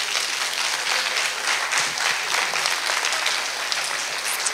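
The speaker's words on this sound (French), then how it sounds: "Les voici, ils arrivent, on peut les applaudir." An audience at a school ceremony honouring teachers and pupils applauds arriving guests, a dense, steady wash of many hands clapping close by that fills the whole stretch without pause.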